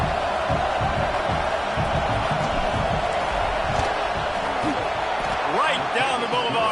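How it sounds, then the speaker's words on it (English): Stadium crowd at a football game roars steadily and loudly as the field goal unit lines up for a kick, a dense wall of cheering and yelling with a few louder whoops near the end. "This crowd trying to do its part to get inside the kicker's head."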